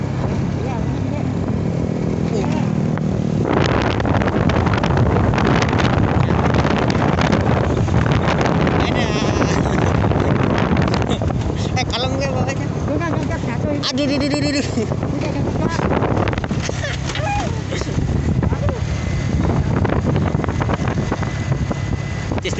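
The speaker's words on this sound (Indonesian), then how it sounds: "Anginnya gede, boy. Anginnya gede." Strong wind buffets the microphone throughout a motorbike ride, a loud continuous roar with heavy low rumble and gusting swells, while someone talks over it in bursts.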